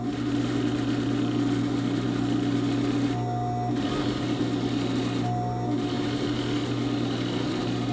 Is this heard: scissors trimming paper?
no